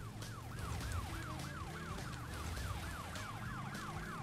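A police car siren from the video game Crash Bandicoot N. Sane Trilogy wails in a fast, steady up-and-down warble over a low engine rumble and game noise, moderately loud and continuous with no talking.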